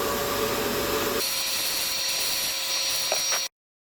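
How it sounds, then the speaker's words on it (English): Soda blasting of Suzuki GS550 motorcycle crankcase parts, a steady loud hiss of compressed air and abrasive that shifts in tone partway through, then cuts off abruptly near the end. "Soda blasting."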